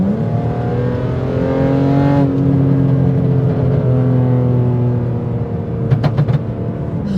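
A modded and tuned 2008 BMW 335i E90 engine revs hard with overboost. The loud, sustained engine note rises and falls steadily, then a few sharp pops and bursts break through near the end.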